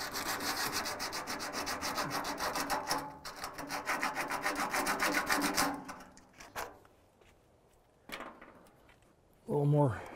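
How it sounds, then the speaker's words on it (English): Coarse 40-grit sandpaper scrubs over car paint being stripped, a rapid rhythmic rasping of back-and-forth strokes that stops partway, followed by a few scattered knocks and a brief clatter. "use the sandpaper on it a little more. I like 40 grit for this, it just moves it quicker"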